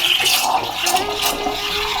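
Espresso machine steam wand steaming milk for a cinnamon maple latte, a steady hissing, bubbling rush with a faint thin tone running underneath throughout.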